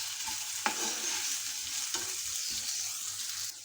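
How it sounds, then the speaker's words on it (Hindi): Finely chopped carrots and bell pepper roasting in a hot pan, giving a steady close sizzle with a couple of sharp stirring knocks. "ये गाजर और शिमला मिर्च मैंने बारीक काट लिया, इसके अंदर ये डालेंगे। और इन्हें 2 से 3 मिनट अच्छी तरह रोस्ट कर लेंगे।"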